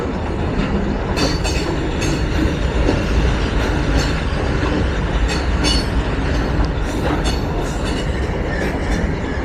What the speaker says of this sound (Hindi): अबे यार, कार्गो ट्रेन थी।